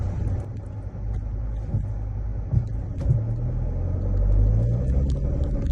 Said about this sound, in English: the in-cabin noise from the motor is relatively quiet